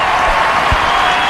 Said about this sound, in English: will get rich applause from the crowd that's gathered